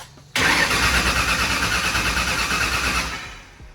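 A turbocharged car engine starts for the first time, running on a stand with the transmission unhooked. The starter cranks and the engine catches with a sudden roar, then settles into a loud, steady, pulsing run that fades near the end.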